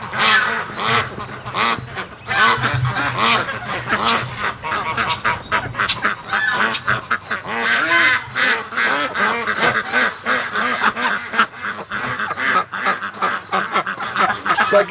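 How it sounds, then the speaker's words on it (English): Muscovy ducklings and adult ducks in an outdoor pen on a cool morning call constantly, a dense, loud run of overlapping peeps, quacks and honks with no pauses, heard close. "The elusive Muscovy babies"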